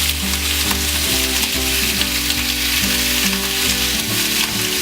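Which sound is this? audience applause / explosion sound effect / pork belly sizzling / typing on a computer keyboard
pork belly sizzling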